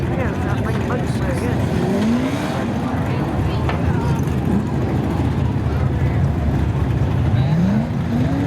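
A Camaro and a Jeep roar along the drag strip at Seekonk Speedway during spectator drag racing. The engine noise is loud and continuous with rising revs, and a commentator's voice runs over it.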